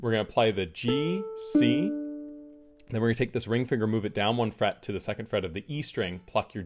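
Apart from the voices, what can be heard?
No distinct noise like a dog, phone or traffic.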